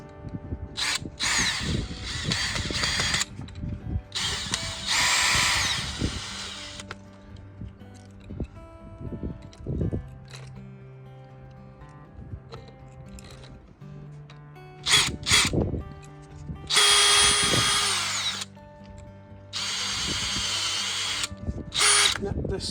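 A power drill drives wood screws into a garden fence in several whirring bursts of a few seconds each, with quieter handling knocks and a voice talking in the gaps between them.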